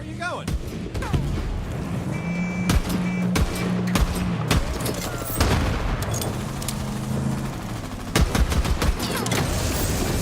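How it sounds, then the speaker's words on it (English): Enemy gunfire in a video game, loud volleys of shots cracking repeatedly at close range, mixed with game effects and an occasional voice. "They're shooting at us"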